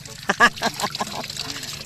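Water runs from an improvised indigenous faucet fed by a hose from a well on a farm, giving a short close-up splashing trickle with a few gurgling bursts.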